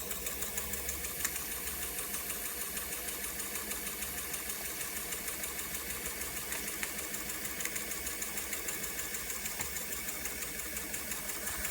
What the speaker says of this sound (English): And you see the engine will just be very happy to run at a relaxed pace like this